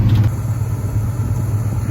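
A Monte Carlo's engine idles with a low, steady rumble close by, constant and unbroken throughout.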